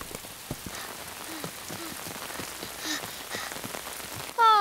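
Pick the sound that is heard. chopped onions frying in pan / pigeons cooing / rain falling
rain falling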